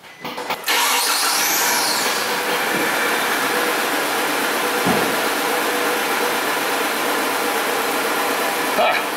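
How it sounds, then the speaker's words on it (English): A Nissan Frontier with a low-power complaint cranks and starts, then idles loudly and steadily up close; throttle snaps are not clearly distinct. "I'm gonna go in there and start it up. I'm gonna give it a couple throttle snaps"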